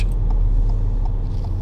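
A car engine idles and pulls steadily in second gear while turning at a junction during a driving lesson, a constant low hum with a faint tick repeating through it.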